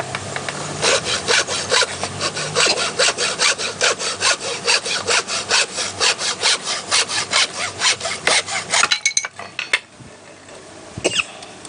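Steady back-and-forth sawing through wood for a Thai flute, a fast even rhythm of rasping strokes close by, stopping near the end with a few knocks and scrapes.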